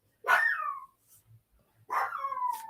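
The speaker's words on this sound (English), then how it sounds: "that's my dog. She's barking every time she hear a squirrel run past the door." A dog barks at a squirrel running past the door, giving two sharp, fairly close barks about a second and a half apart, with near silence between them.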